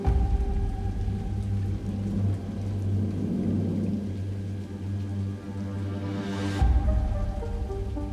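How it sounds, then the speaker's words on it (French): Steady rain falls over a low, rumbling drone and tonal hum, broad and continuous, with a brief swell near the end and no voices. "La pluie restait présente"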